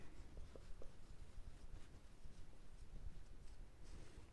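A pen moves on paper in a quiet room, a faint soft scratching in short strokes that continues steadily for a few seconds.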